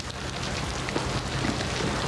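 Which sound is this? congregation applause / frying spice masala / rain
rain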